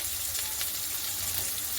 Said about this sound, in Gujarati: તે પણ સારી રીતે સાતળી લઈશું.